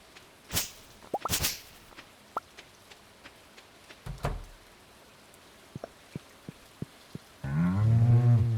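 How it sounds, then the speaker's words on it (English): Cows moo in the farm game Stardew Valley, a couple of separate calls amid scattered small clicks and taps, with a louder, fuller sound swelling in at the end. "I love our cows."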